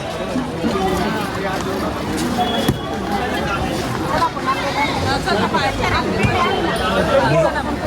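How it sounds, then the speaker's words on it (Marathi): A large, dense crowd of pilgrims fills the temple at Pandharpur, a continuous loud babble of many overlapping voices and footsteps close around, with someone talking over the hubbub throughout. "गर्दी तर भयानक आहे आज."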